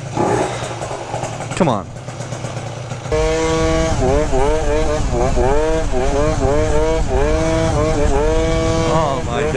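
A 70cc stunt scooter fitted with lighter rollers revs hard on a first ride, its engine pitch repeatedly climbing and falling in close, loud surges, with someone talking over it.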